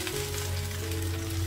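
Chopped onion sautéing in a pan for Filipino bistek tagalog, a steady close sizzle and crackle with a low hum underneath, running alone without pause.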